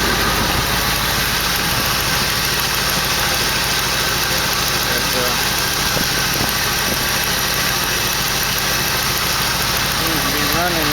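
A 1968 AMC AMX 401 V8 with a bad lifter idles steadily and close by, giving a dense, unbroken mechanical drone with faint voices underneath.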